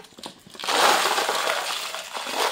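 A loud, continuous rattling clatter of nails and pebbles tumbling and pouring out of a concrete bowl mold, with clinks and scraping, starting quietly then swelling.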